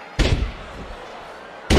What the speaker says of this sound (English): Mansoor slamming Gulak to the canvas